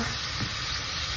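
Modak dumplings frying in hot oil give off a steady, close sizzle with a bright, even hiss that holds throughout, with no talking.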